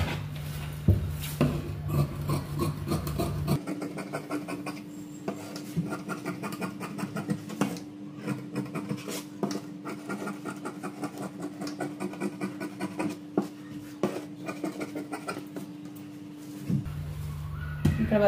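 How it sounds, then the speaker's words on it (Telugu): Scissors cut through blouse cloth for a V-neck blouse, making repeated crisp rasping snips at close range over a steady low hum. "సో ఇక్కడైతే కటింగ్ అయితే చేసేస్తున్నాను."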